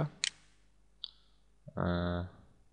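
A computer mouse gives two sharp, isolated clicks about a second apart in a quiet room while AutoCAD 2011 is being installed, followed by a short voiced hum.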